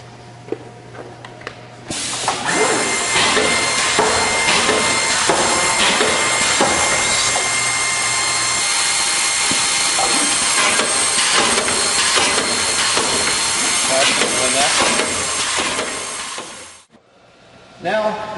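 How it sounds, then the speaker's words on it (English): An OMAL HBD boring, gluing and doweling machine processing a panel: a loud, continuous mechanical whir with repeated clunks and pneumatic bursts that runs for about fifteen seconds, then stops abruptly. "now we're going to show the machine processing a panel vertically and a panel horizontally."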